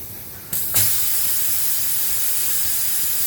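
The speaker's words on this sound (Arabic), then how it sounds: "عايزاها تفرغ الضغط بتاعها بسرعة، فبنزل الزرار بتاعي من 2 ل1" A pressure cooker releasing its steam after cooking tomatoes, with the valve switched from setting 2 to 1: a sudden loud hiss bursts in after half a second and keeps blasting steadily up close.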